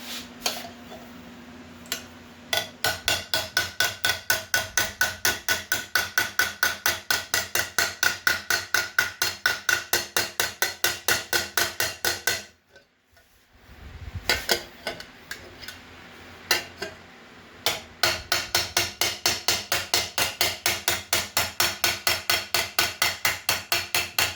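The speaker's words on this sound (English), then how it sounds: "Switch to a different hammer. It's got a little bit smaller profile." Rapid, steady taps of a small, smaller-profile hammer forging metal go on and on with bright ringing clinks, broken by a brief pause partway through.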